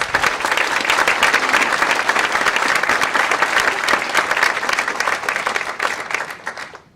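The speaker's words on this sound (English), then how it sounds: "Let's all give Susan a round of applause." Full, loud applause from the audience at a Rare Disease Day event for Susan Martin, dense and steady clapping from many hands that thins and fades out at the end.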